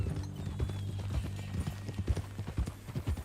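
Horse hooves clip-clop in a steady walking rhythm in the video game Red Dead Redemption 2, close and clear over a low ambient hum.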